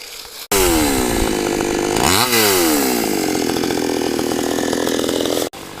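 A chainsaw cuts through teak trees on a Kerala plantation, its engine snarling loud and steady for about five seconds, dipping briefly in pitch midway as the bar bites into the wood, then cutting off abruptly.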